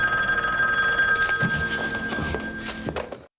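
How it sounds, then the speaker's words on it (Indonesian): A telephone bell rings loud and close in a film scene, its metallic trill sustained with a few thumps beneath before cutting off abruptly. "Gordon mendapat telepon dari istrinya"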